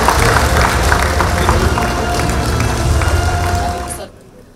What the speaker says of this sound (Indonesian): Jadi kita berikan tepuk tangan yang paling meriah.